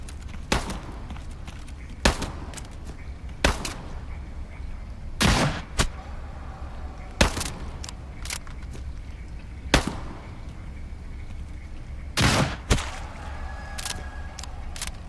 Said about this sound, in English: Man, this shotgun's a fucking slayer, dude. Even for a double barrel.